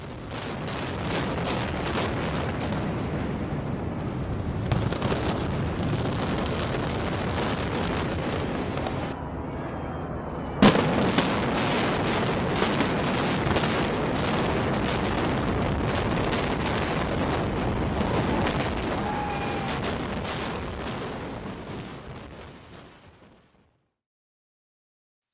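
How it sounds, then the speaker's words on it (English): A dense, continuous roar of crackling, popping bursts and booms, loud and sustained for over twenty seconds before fading out. "a number of crackling sounds before the buildings collapsed"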